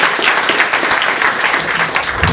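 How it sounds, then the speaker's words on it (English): Audience at a cannabis investment talk with Evan Eneman of Casa Verde Capital giving a round of applause, a dense, continuous burst of clapping throughout, fairly loud and close. "let's give him a round of applause"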